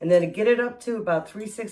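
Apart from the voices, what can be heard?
No everyday noise stands out behind the speech.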